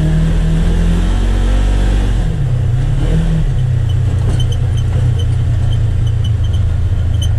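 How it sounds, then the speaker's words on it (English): Polaris Ranger XP1000 UTV fitted with a Hunterworks belt engine braking on a trail, a loud close engine drone that drops in pitch then holds a steady low rumble. "That's all engine braking right there."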